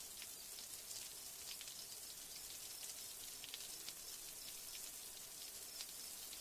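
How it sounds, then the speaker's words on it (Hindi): Steady rain falls in a cold-season downpour, a continuous faint patter of drops with scattered sharper ticks on a surface. "ठंड की पहली बारिश है, सुबह तक खत्म हो जाएगी"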